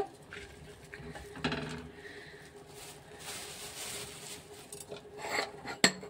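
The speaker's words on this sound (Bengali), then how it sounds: "ভালো করে আপনারা চালটা এরম করে ছেঁকে নেবেন।" Rice flour being sifted through a sieve at home, a soft continuous rasping and rubbing with light patter and a couple of sharper metallic taps near the end, fairly quiet.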